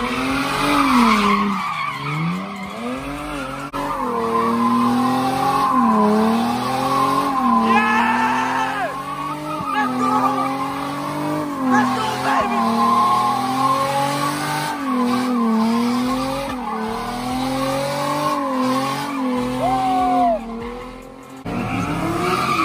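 A sedan does donuts at a New Orleans car meet, its engine holding a wavering high rev while the tires squeal and skid continuously, loud and close for the whole stretch, with faint crowd voices in the background.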